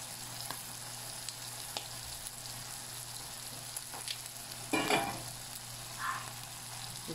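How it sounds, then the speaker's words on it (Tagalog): Shrimp paste (bagoong alamang) hitting sautéed onions and tomatoes in a pan for pork binagoongan, a faint steady sizzle with a louder brief scrape and stir near the middle, no voices. "saka natin ngayon ilagay ang ating bagoong na alamang"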